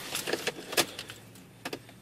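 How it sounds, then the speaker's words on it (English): Car keys being picked up and jangled make a scatter of small, sharp metallic clinks and rattles, close by and fairly quiet, in uneven bursts with brief pauses between. "Where's the keys? Oh, there they are."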